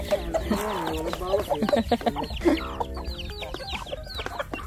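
Black Australorp hens cluck repeatedly close by among other native chickens, with busy overlapping bird calls and some background voices.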